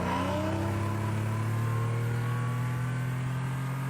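A customised 2018 Chevrolet Camaro engine revving continuously, a deep rumbling drone with rising harmonic tones as it climbs, loud and close with no talk over it.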